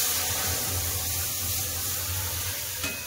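Boiled dal hits a hot pan of fried onion tempering, giving off a strong, steady hissing sizzle up close that eases slightly near the end.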